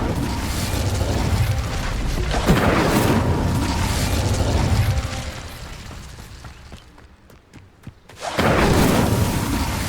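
A fire spell cast in the video game Hogwarts Legacy gives a dense, roaring burst with crackling mechanical texture. It swells loud, fades and briefly drops away, then flares up again near the end.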